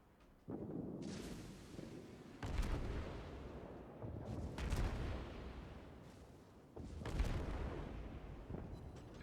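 Heavy naval guns fire from the Soviet cruiser Shchors in a naval battle game, about four deep booming salvos spaced a few seconds apart, each with a long rumbling tail.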